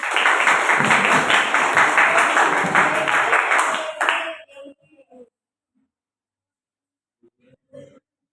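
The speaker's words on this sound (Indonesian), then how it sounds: "tepuk tangannya" A small group at a mentoring session gives a short burst of hand clapping for a presenting team. The clapping lasts about four seconds and then stops abruptly, followed by near silence with a few faint taps.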